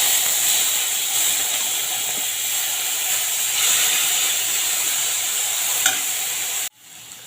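Chopped tomato hits hot oil with black cumin seeds in a pan used for frying okra, producing a loud, close, continuous hissing sizzle that cuts off abruptly near the end.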